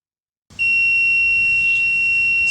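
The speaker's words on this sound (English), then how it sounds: "Whenever we are activating these two sensors, then buzzer will on" A buzzer on a Raspberry Pi Pico fire alarm system, set off by its smoke sensor, starts after a brief silence and holds one loud, piercing, continuous electronic tone.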